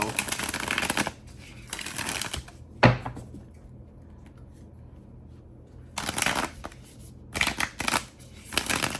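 A brand-new, stiff tarot card deck being shuffled in a few crisp riffling bursts with quiet pauses between, and a single knock partway through.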